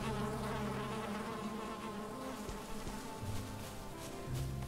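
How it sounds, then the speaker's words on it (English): Buzzing of a bee in the Valheim video game, a steady insect drone running throughout beside in-game background music, with no talking. "We got a bee."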